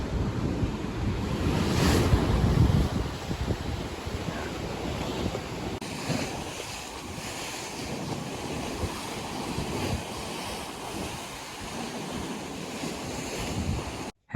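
Sea waves washing onto the beach at Lyme Regis, a steady surging roar with heavy wind buffeting the microphone, fairly faint and continuous with no voices.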